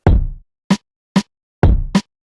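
Snare and rim shot samples pushed through a soft clipper and RC20 Retro Color crunch distortion: a thick snare hit, two crisp rim clicks, then snare followed closely by another rim shot, loud and up-front, no voices.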